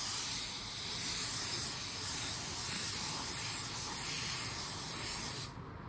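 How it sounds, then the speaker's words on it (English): A paint spray gun atomizes car paint in a steady, loud, close hiss that holds evenly for several seconds before cutting off abruptly at the end. "That was the first time I ever shot that gun with that nozzle and air cap."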